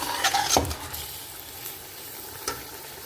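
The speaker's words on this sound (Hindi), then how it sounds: "आलू जो मैंने लिए थे 4 से 5 दरमियाना साइज, इनको अच्छे से मिक्स कर लेंगे।" Medium-sized potatoes are stirred into fried masala in a cooking pot, with a soft sizzle under a few scraping and clattering utensil strokes against the metal pot.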